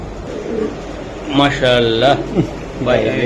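A racing pigeon coos a few times in low, throaty bursts, fairly close, while someone talks over and between the calls.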